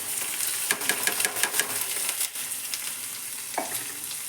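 Split pulses fry in hot oil with cumin and mustard seeds for sambar, giving a close, steady sizzle with scattered crackles and pops and a brief stir near the end.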